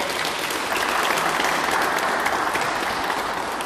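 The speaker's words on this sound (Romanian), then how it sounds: "haide să-l aplaudăm" An audience gives sustained, even applause at a town twinning ceremony, a dense wall of many hands clapping at once with no speech over it.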